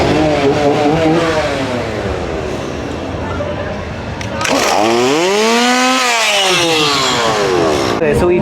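Chainsaws of the Chainsaw Horde scare zone at Halloween Horror Nights snarl close by in the Simpsons area, revving up and down in loud rising and falling whines over a noisy crowd.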